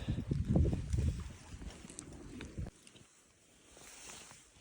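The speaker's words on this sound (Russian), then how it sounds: "Ох, сугробы пробивают кони." Heavy, muffled crunching and thudding of horses plodding through deep, knee-high snowdrifts on a winter mountain ride, close by, fading into quieter rustling after a few seconds.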